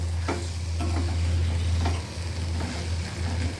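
Dried small shrimp being stir-fried in a pan, with a steady close sizzle and repeated scraping strokes of a spatula, over a constant low hum and no talking.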